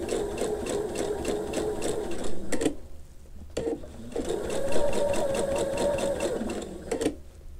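A sewing machine stitching curved quilt fabric pieces, running in a fast rhythmic clatter with two brief pauses where it stops and restarts, heard close and alone.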